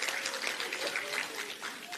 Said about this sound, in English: Yes, we should applaud to that.